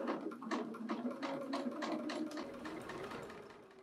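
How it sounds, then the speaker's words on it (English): A sewing machine with an edge stitch foot topstitches close to the folded hem of a top, running as a steady, rhythmic mechanical whir of rapid stitching that holds nearby and fairly loud throughout. "Let's just start sewing."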